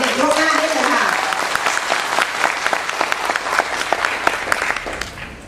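Applause fills a corporate business event hall, a broad crowd clapping at full strength from the start and holding steady, with a voice heard briefly under it at the beginning before it tapers slightly near the end.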